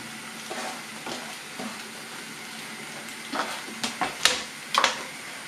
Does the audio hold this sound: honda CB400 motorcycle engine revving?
no